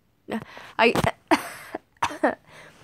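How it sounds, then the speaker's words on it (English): Several sharp coughs and throat-clearing bursts come close and loud in irregular clusters, with short silent gaps between them. "I don't think I'm sick, but I've been coughing"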